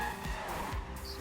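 A race car in a racing video game on a dirt section, a short burst of close engine roar with rising and falling pitch and tire squeal.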